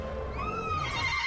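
A horse whinnying in the video game World of Warcraft, a single wavering neigh with a rising and falling pitch, clear and fairly close over faint background noise.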